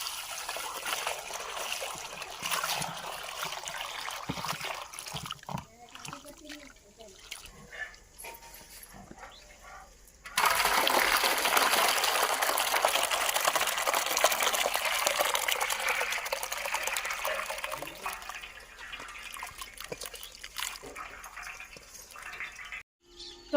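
Chopped chickpeas being washed by hand in a vessel of water, with steady swishing and trickling that grows louder and denser midway, then tapers off near the end.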